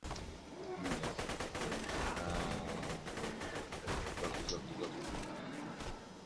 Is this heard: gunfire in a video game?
yes